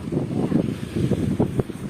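Sea waves wash onto a beach in Turkey on a breezy day, a steady rushing surf with wind noise, close and fairly loud, with no voices.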